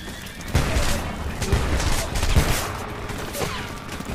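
Automatic shotgun firing in the Homefront video game, with a few heavy booming blasts spaced roughly a second apart over busy combat noise.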